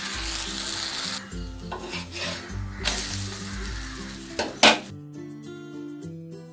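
Dosa cooking on a hot pan after oil or ghee is drizzled over it, giving a soft sizzle with scraping, rubbing and clinking of a utensil against the pan, including one sharp metallic knock near the end.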